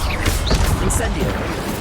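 Incendio fire spell cast in the Hogwarts Legacy video game, a rushing fiery burst with whooshes and impacts amid busy combat sounds, loud and close.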